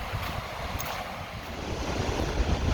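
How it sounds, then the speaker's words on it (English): The Rupert River at summer low water, tamed by a hydro dam, makes a steady broadband rush of flowing water, continuous and fairly loud, mixed with wind buffeting the microphone and no talking. "Okay, so this is the Rupert River."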